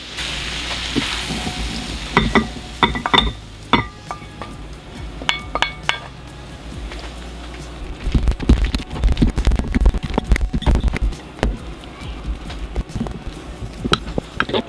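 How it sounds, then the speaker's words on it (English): Beans fry in a pan with a constant close sizzle, broken by bursts of clacking and scraping as they are stirred and shifted, with no one speaking. "Now it's not going to take long for me to fry up these beans."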